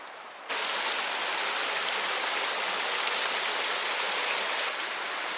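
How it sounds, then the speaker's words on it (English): A woodland creek in Hickory Run State Park flows steadily, a close, continuous rushing of water that swells after a brief quieter start and holds even to the end, with no voices. "Water flowing down a creek instead of snow being piled up on it?"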